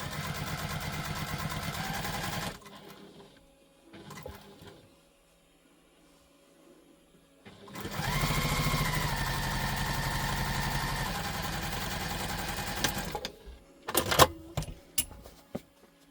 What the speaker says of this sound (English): we're going to stitch across them using the seam allowance stated in the pattern